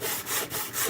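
A block sander scrapes years of layered old paint off wood in steady back-and-forth strokes, about four rasping passes, close and fairly loud, with no talk.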